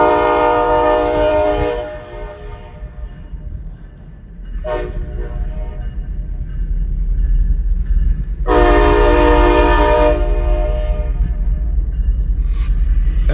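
A westbound freight train rumbles past in Fremont, Nebraska, its horn sounding several loud blasts of rich chord tones over the constant low roll of the cars.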